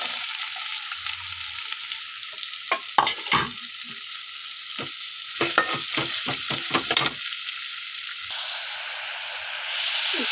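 Chopped onion sizzling steadily in a hot pan for masoor dal, a continuous frying hiss with intermittent scraping strokes of a spatula stirring, close up, no talking.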